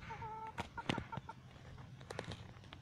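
A farm chicken gives a few short clucks, moderately close, amid scattered knocks and rustling.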